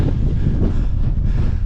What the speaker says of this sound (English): Getting windy, just getting in the clag now.